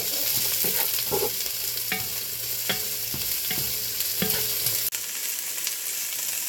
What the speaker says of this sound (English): Mix it around, let it cook down just a little bit.